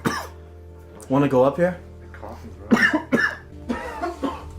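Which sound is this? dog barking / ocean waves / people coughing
people coughing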